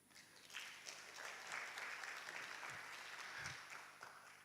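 Sustained clapping from a youth conference audience after a presentation, many hands at a fairly even pace with a few sharper claps standing out. The sound is quiet and distant.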